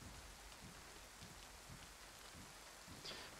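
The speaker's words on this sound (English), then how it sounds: "And the rain's loud up here." Steady rain pours down in the survival game DayZ, a dense, even hiss heard from up high inside a building, loud and constant with faint scattered drops and no voices.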